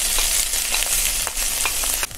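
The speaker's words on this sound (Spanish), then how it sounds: "Ya está caliente, ahora le vamos a agregar la cebolla." Chopped onion hisses and crackles as it hits hot oil for an aji de gallina dressing, giving a loud, steady sizzle with faint stirring scrapes and no voices.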